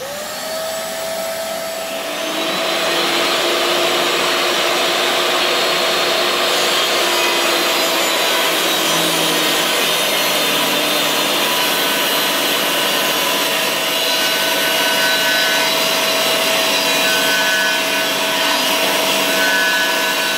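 A table saw cutting wood with a DIY vacuum dust collector running: a motor whines up and settles into a loud steady drone with a grinding cutting noise layered over it.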